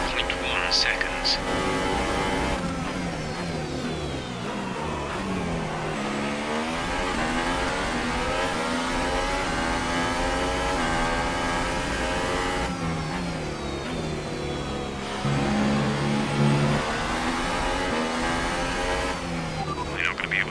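An F1 racing car engine in the F1 2018 video game at the Red Bull Ring, revving hard and shifting through gears with rising and falling pitch sweeps, loud and continuous under a voice talking.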